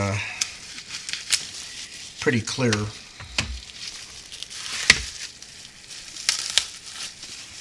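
Plastic wrap being opened: film crinkles and crackles up close in bursts of rustling, stretching and tearing, with a brief spoken word partway through.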